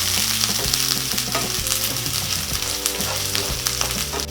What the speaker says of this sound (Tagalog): pwede na nating isunod ang ating luya. Tapos, haluin lang natin.